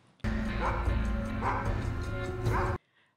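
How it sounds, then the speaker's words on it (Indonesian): A dog barks close by in the thriller film Brake, about three loud barks spaced roughly a second apart over a low background rumble, then it cuts to near silence. "Kemudian Jeremy mendengar suara gonggongan anjing yang tak jauh dari sana."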